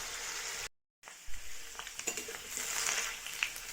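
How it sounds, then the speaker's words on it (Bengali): Potatoes fry in hot oil for a mixed vegetable curry, a soft continuous sizzle with a short silent gap, then light crackles and pops returning at low volume. "আলুটা এর মধ্যে দিয়ে দিলাম। একটু ভাজা ভাজা হোক 2 মিনিট"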